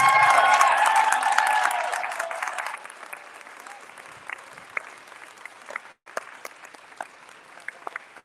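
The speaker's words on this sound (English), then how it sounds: "Can we get a round of applause for that?" A crowd at a political talk event applauds loudly for about three seconds, then the clapping drops to scattered, lingering claps and light crowd noise.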